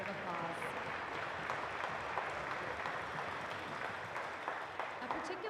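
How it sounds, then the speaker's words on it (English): Audience applause at a Coal Bowl closing ceremony, a steady dense wash of clapping from a crowd held at an even level throughout, with some voices mixed in. "Please give them a round of applause."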